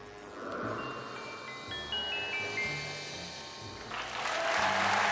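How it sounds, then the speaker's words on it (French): Applause on a French television game show builds under bright musical jingle tones, swelling louder in the final second as the clapping thickens. "Cassandre vous applaudit"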